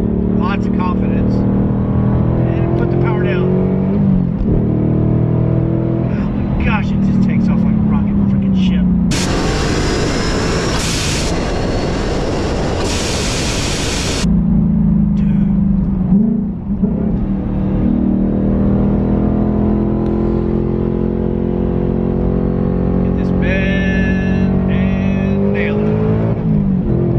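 A supercharged 2021 Ford Mustang Mach 1 V8 driven hard, a loud in-cabin engine drone rising and holding through gears with a sharp high-pitched supercharger whine, interrupted by a burst of wind noise, while someone talks over it.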